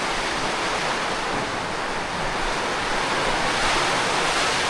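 Heavy rain pours in a dense, steady hiss of broadband noise, loud and unbroken for several seconds with no distinct drops or voices standing out.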